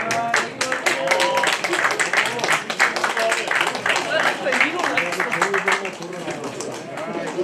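An awards-ceremony audience at a year-end gala gives dense, sustained applause with some crowd cheering and chatter mixed in, loud and fairly close, tapering slightly at the end.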